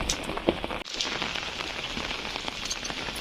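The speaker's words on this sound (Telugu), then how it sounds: "ఫుల్ వర్షం పడుతుంది ఫ్రెండ్స్" Heavy rain pours down in a dense, steady patter on surfaces close by, a continuous hiss of countless drops with no voices.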